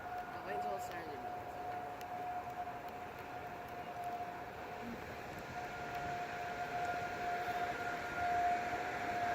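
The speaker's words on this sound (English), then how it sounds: "Wait until the sirens are done." A Thunderbolt 1000T tornado siren sounds during a test in Grosse Pointe Woods, Michigan, a steady distant wailing tone held over broad outdoor noise, swelling slightly louder toward the end while people talk nearby.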